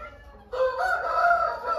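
A Shamo ring-bird rooster crows once, close and clear; the long harmonic call starts after a brief quiet moment and carries to the end.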